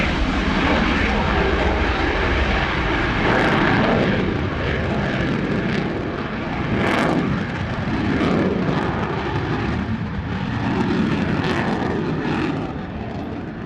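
An F-16 fighter jet flying at an air display, a loud continuous roaring engine rumble that swells and fades as it passes, with broad rushing noise filling the whole stretch.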